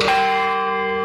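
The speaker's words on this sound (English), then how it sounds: "And that's the largest bell that I just rang." The largest bell at the Scottish Rite Cathedral in Indianapolis, rung by a cable-pulled clapper, gives one loud, close strike that rings on with a steady, humming decay.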